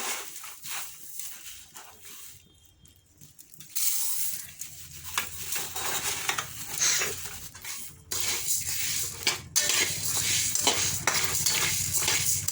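Coriander seeds are tipped into a pan and stirred while dry-roasting for homemade sambar spice powder, giving a steady run of scraping, rattling stirs with a quieter pause before the stirring grows louder and busier.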